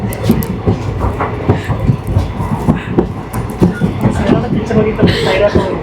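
A passenger train from Vijayapura to Mumbai rattling along the rails overnight, rhythmic clickety-clack beats repeating loudly and close inside the carriage, with people talking over it.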